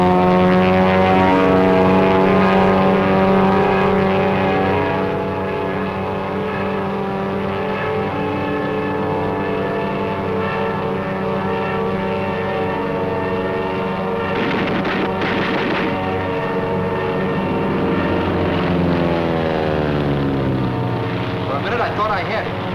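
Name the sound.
Japanese Zero fighter aircraft with radial engine flying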